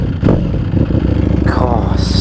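A 2018 Ducati Panigale V4S engine is blipped briefly, a close, loud throaty rev rising and falling over a rumbling idle, with a voice speaking over it.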